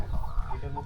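Chickens, roosters and hens cluck inside a rural house on a Jamuna river char, a brief, fairly quiet burst of soft clucks close by.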